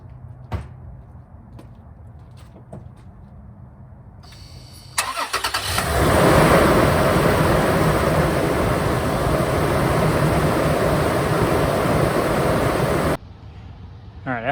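A Toyota 4Runner's 1GR-FE V6 cranks and fires after an oil change, then settles into a steady, loud idle for several seconds before cutting off; soft clicks and handling sounds come before the start.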